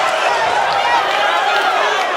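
A boxing crowd at Gabriel Gollaz Valenzuela's fight roars loudly and steadily, a dense, continuous wash of cheering with no breaks.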